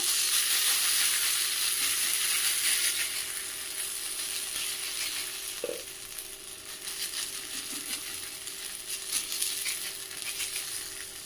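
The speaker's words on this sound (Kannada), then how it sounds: "ಬಿಸಿ ಕಾವಲಿ ಹೊಗೆ ಬರ್ತಾ ಇದೆ. ಈಗ ರೊಟ್ಟಿ ಹಾಸುವ." Rava rotti batter spread by hand sizzles and crackles steadily on a hot, smoking griddle with ghee, a continuous close frying hiss with a brief clink midway and no talk.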